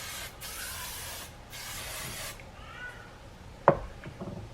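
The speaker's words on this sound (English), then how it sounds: "give my hair a good spray with this hairspray." An aerosol hisses in two bursts, a short one then a longer one, close up, followed by a brief clatter as the can is set down.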